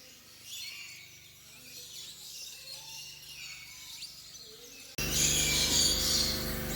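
Lorikeet and other free-flying birds at an outdoor attraction, chirping faintly against a low ambient hiss, with a louder burst of broadband noise in the final two seconds.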